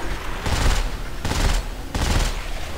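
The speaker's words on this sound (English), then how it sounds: "That's the SMG, by the way." SMG fire in Dead Space 3, heard as three loud bursts of rapid shots spaced evenly across a few seconds, close up and unaccompanied by speech.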